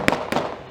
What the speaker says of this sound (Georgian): იარაღი გაისროლეს